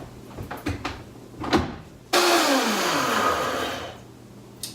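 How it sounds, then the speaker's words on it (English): A Vitamix blender whirs loud and steady for about two and a half seconds while mixing a detox smoothie, starting abruptly after a few knocks and clatters and then winding down. "It's all mixed in my handy Vitamix blender"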